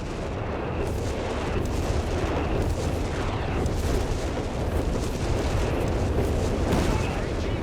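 An artillery barrage pounds the centre of a battlefield in Company of Heroes 3, with dense, continuous booms and blasts overlapping into a loud roar while a commentator talks over the gunfire.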